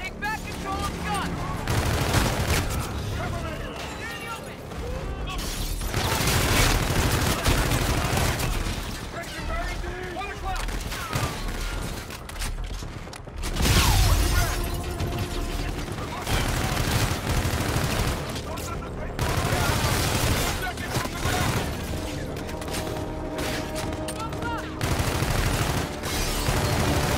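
Dense gunfire in the sci-fi shooter Call of Duty: Infinite Warfare's campaign on PS4 rattles in rapid automatic bursts, with heavy booms from blasts. Combat chatter comes through between the loud, sustained volleys.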